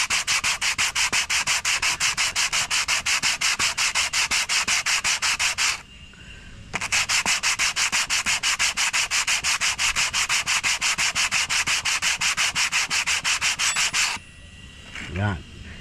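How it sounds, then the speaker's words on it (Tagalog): A scored brake rotor disc on a Mitsubishi Mirage being sanded by hand with quick, even back-and-forth strokes, loud and close, pausing briefly once before continuing and then stopping near the end. "Huwag natin titigilang lihain hanggat may bakat pa"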